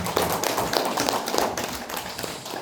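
An audience at a lecture breaks into dense, sustained applause, with many hands clapping steadily and fairly close for the whole stretch.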